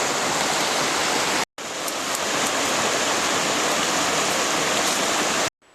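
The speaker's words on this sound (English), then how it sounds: "another sweet spot along the trail here, nice little waterfall, really beautiful and peaceful." Small waterfall beside a hiking trail, a loud, steady rush of falling water filling the scene, briefly cut out by two short silent gaps.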